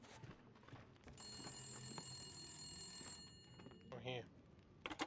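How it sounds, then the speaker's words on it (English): A telephone rings in the video game The Long Dark with a steady, high electronic trill for about two seconds. It sounds faint under rustling game noise and is followed by a short cry. "Why is the phone ringing?"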